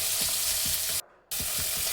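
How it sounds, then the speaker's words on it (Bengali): Small tengra catfish sizzling in hot mustard oil in a kadai give a loud, continuous frying hiss with rhythmic stirring scrapes. The sound cuts out briefly near the middle, then returns. "কড়াইয়ে দিয়ে দিয়েছি সর্ষের তেল, আর এদিকে মাছগুলো দিয়ে দিয়েছি। মাছগুলো আমি ভেজে নেব।"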